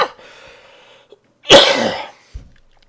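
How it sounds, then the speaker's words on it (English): A single loud, explosive cough or sneeze bursts out close by after a faint hum, followed by a short trailing breath. "Nice cough."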